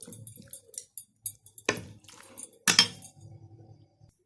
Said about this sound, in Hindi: इसमें थोड़ी सी क्रीम और शामिल करके तो इसको मिक्स करूंगी